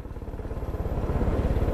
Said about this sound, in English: let's try and set the helicopter down